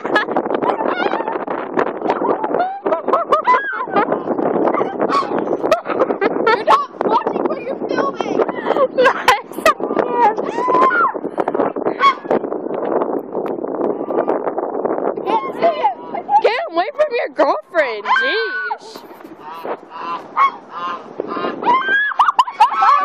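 An aggressive goose honking repeatedly at close range, harsh calls mixed with a person's frantic talk and shouting, with wind buffeting the microphone.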